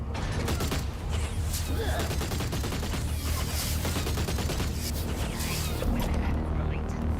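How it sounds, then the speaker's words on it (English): Rapid gunfire from a weapon in the video game Oddworld: Soulstorm, a dense, continuous rattle of shots with mechanical clanks running throughout, loud and steady. "The gun sounds pretty fucking sexy as well."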